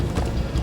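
Horses galloping in the video game Minecraft: Story Mode, a quick, loud, close burst of rapid hoofbeats.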